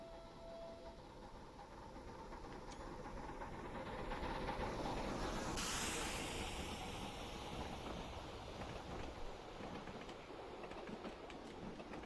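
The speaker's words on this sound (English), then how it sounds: "I'll shut up and just drive the train through here" A steam locomotive driving the West of England Main Line in Train Simulator 2022, with a steady rumbling roll and rhythmic chuffing that swells in the middle, plus a brief hiss, alone without talk.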